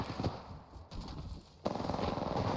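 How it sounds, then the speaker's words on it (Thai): Gunfire in the battle-royale video game Apex Legends: rapid automatic bursts crackle in quick succession, pausing briefly before a louder, sustained volley resumes. "มีการยิงกันนะ"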